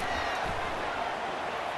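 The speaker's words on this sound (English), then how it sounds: "they are on their feet, yelling, screaming. Now listen, we can't play all the words they're yelling, Reese, but they are an intimidating crowd." A stadium crowd in the College Football 25 video game roars steadily, a dense, continuous wash of yelling and screaming fans at a constant level for a brief moment.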